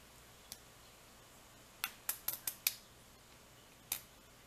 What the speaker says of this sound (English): They click on 5.